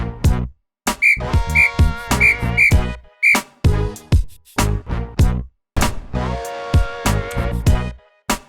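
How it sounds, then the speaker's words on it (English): A referee's whistle at an amateur Saturday league football match gives five short, shrill blasts in quick succession over a few seconds, heard amid loud, close voices and pitchside noise. "the ref blows his whistle"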